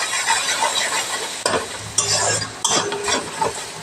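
Onions fry with salt and turmeric in a pan, sizzling steadily while a utensil stirs and scrapes through them in repeated close strokes.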